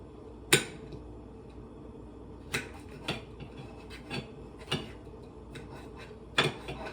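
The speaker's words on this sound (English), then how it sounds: "So I'm just chopping it up in thick little chunks" Sharp knife chopping food into thick chunks against a board, a handful of separate cuts spaced irregularly, close and fairly crisp over a quiet kitchen background.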